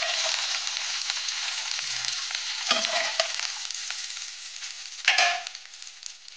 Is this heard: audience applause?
no